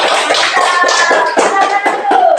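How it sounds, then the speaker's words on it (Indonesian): A group of students in a classroom clapping their hands together in quick, loud, close bursts, a rhythmic patter of claps with a few faint voices underneath. "Oke, tepuk tangan dulu."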